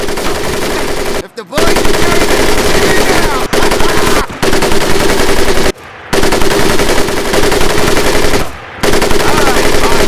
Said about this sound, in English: The other will fire the weapon.